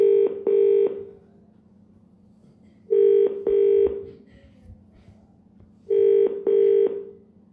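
A telephone line rings out while a minister calls a voter, three clear double-pulse ringback tones spaced a few seconds apart over a faint hum, with no talking.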